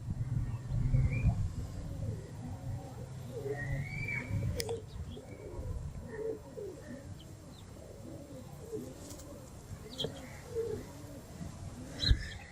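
A female pigeon kept for breeding coos in a slow, rhythmic series of low throaty calls, fairly close, with faint chirps and small knocks in the background.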